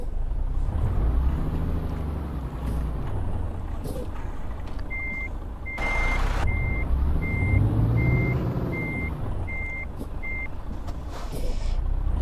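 A large truck in Euro Truck Simulator 2 idles and turns around while a steady reversing beeper repeats at an even pace, with a brief hiss of air brakes midway.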